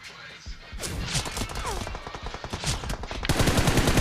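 Sniper and rapid gunfire in a team deathmatch video game give sharp repeated cracks and bursts, loud and close, with voices briefly heard in the mix.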